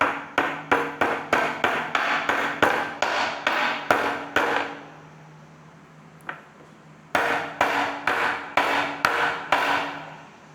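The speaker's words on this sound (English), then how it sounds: "getting the snap-on bearing hammer out, or otherwise known as a soft-faced hammer" A soft-faced hammer taps a metal bearing on a mountain bike's rear shock in quick, even bursts of blows, pauses for a few seconds, then resumes with another steady run of taps.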